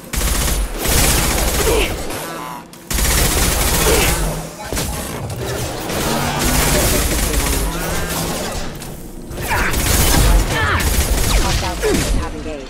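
Sustained gunfire from a Mass Effect 2 firefight, with dense overlapping shots and booms running almost the whole time, briefly dropping out near the start, while voices talk over the combat.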